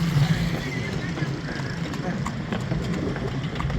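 Horse hooves clip-clopping on a road in Africa, a steady trotting rhythm under traffic rumble and a voice talking nearby.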